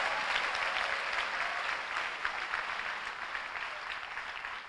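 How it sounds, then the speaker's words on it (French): A church congregation claps and cheers in steady, dense applause that carries through the whole stretch, loud at first and easing slightly toward the end, with no clear speech over it. "Acclame bien, acclame bien, acclame bien,"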